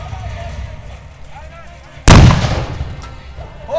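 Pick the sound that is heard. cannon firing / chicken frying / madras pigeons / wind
cannon firing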